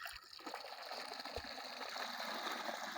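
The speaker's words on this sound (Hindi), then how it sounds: "ये पानी का आवाज़ आ रहा है" Flowing water in a Punjab village in Pakistan, a faint, steady trickling rush with no other noise.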